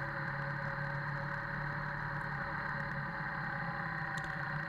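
A motorbike engine drones steadily throughout at moderate distance, even and unbroken, with a low hum and no voices.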